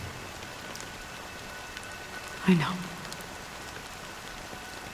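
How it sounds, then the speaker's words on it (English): Steady rain falls in the Honkai: Star Rail video game, a soft, even hiss running throughout, with a voice speaking briefly near the middle. "But it's still raining."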